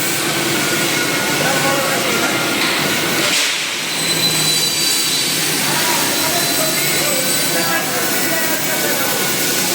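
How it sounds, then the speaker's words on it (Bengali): A large industrial machine cutting aluminium stock in a workshop, giving off a steady, loud roaring mechanical whine that continues with one brief dip near the middle. "দেখেন এই মেশিনে বিসিও কাটা যায়, অ্যালুমিনিয়ামও কাটা যায়।"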